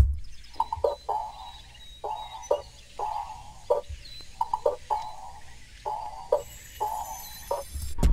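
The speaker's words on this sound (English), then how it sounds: "you got the birds, you got the little chimes in the background, you got the percussion on top of it" A produced percussion loop with bird calls, soft chimes in the background and a flute, built for a guitar-loop beat; rhythmic hits repeat steadily about every second with bright chirping tones layered over a low bed.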